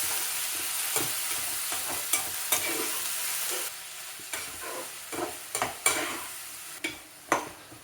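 Cashews, almonds and mint leaves sauté in a pan for mutton curry, a steady sizzling hiss broken by repeated scraping strokes and light clinks from stirring.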